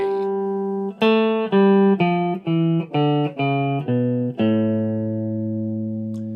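A guitar plays a slow run of single notes, eight in sequence, each plucked clearly and ringing briefly, the last held and fading.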